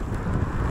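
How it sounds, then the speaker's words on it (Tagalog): Strong wind buffets the microphone while riding on a road toward Fukui Prefecture in unexpected snowfall, a steady, close low roar with no speech. "Lakas sa hangin."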